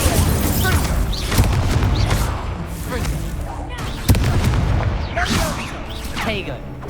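An Incendio fire spell is cast during combat in the video game Hogwarts Legacy, giving repeated loud, booming whooshes and bursts mixed with voices and other game sounds.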